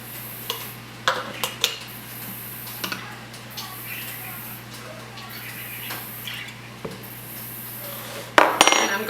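Metal spoon clinks against glass pint canning jars as a tablespoon of lemon juice is added to each, bright taps and clatter scattered over steady kitchen hum, with a louder burst of clinking near the end.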